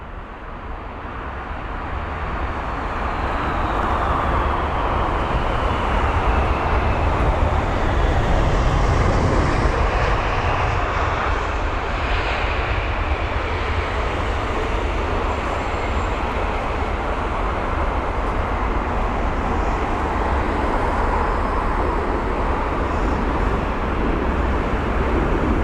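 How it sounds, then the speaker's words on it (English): A 22-year-old Singapore Airlines Cargo Boeing 747-400 freighter lands at London Heathrow after a flight from Sharjah. Its broad, loud jet roar swells over the first seconds and then holds steady throughout, with no voices. "this is Singapore Airlines cargo in their 747-400 freighter"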